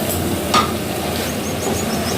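Banana flower curry (thor ghonto) being stirred in a pan, a steady soft scraping and gentle sizzle with one brief louder clink near the start, close by and without voices.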